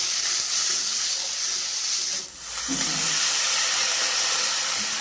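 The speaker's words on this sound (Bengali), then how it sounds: "আমি এই মশলাটা কিন্তু ভালো করে কষিয়ে নেব" Spice paste with salt and turmeric sizzling in a pan while cooking a village-style mustard hilsa curry; a steady, close frying hiss runs throughout, briefly dipping midway before resuming.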